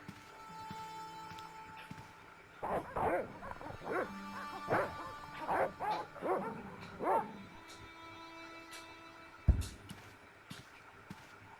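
Cartoon dogs in the Broken Sword adventure game bark and yip in a quick run of sharp bursts over a quiet backdrop, with a single thump near the end; a character talks around them.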